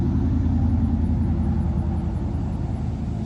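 A truck fitted with loud aftermarket exhaust pipes rumbles steadily at close range, a deep, continuous low idle drone with no breaks.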